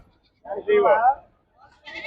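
Goats bleat at a livestock market in Miryalaguda, Nalgonda district, Telangana, among pregnant does and young kids: a close, wavering call, a pause, then a second shorter bleat.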